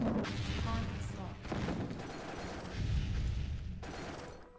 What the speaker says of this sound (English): Cluster missile just shred down part of my firestorm wall